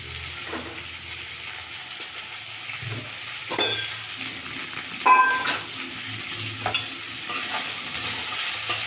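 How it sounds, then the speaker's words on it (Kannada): Sliced okra fries in hot oil in a pan while being stirred, giving a steady soft sizzle broken by a few sharp scrapes and clinks of the spoon against the pan. "ಇದು ಎಣ್ಣೆನಲ್ಲೇ ಫ್ರೈ ಆಗಲಿ. ಫ್ರೈ ಆಗ್ತಾ ಇರಲಿ ಅದು."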